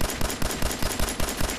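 Rapid automatic gunfire from Fallout 4, loud and close, with bursts of shots repeating in a steady rhythm through the whole short stretch and no talking over it.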